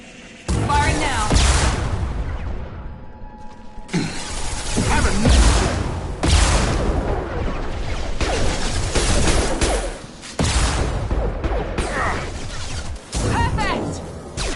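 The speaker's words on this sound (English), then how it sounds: "Firing now." Gunfire in the sci-fi shooter Mass Effect 2: loud, dense bursts of weapon fire and impacts in several long volleys, broken by brief pauses, with voices calling out over the combat.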